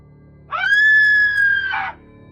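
A woman's loud, sustained scream in an audio drama, a single high, steady cry of about one and a half seconds, close and clear over a quiet background.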